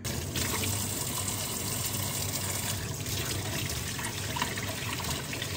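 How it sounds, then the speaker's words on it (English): Fruit washed under a running kitchen tap, a steady broadband rush of water splashing continuously and fairly loud for the whole stretch, with no voices. "I'm gonna wash it."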